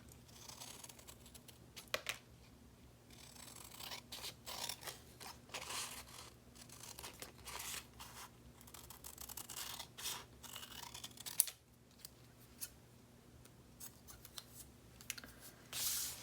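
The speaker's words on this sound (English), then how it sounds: "Let me get my bigger scissors so I can see where that's headed." Scissors snip repeatedly through paper while journal prompts are cut out at a craft table, a close, crisp run of cuts with brief pauses and a sharper snap near the middle, no talking.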